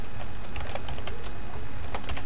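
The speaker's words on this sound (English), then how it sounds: "you type a name in there" A name being typed on a computer keyboard, with rapid, uneven key clicks close to the mic against a steady background hum and no voices.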